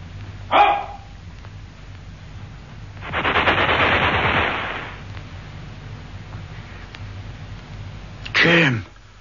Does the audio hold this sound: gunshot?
yes